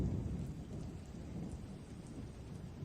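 Thunder from lightning striking a tree rolls as a continuous low rumble over steady rain throughout. It is moderately loud and sounds fairly distant, with no voices.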